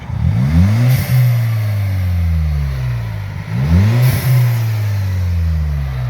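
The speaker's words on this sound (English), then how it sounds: "On this one we have fitted a dump valve." Audi A5 with a 1.8T engine and an aftermarket dump valve revs hard twice, each loud climbing rev dropping off with a sharp whoosh of released boost, close by.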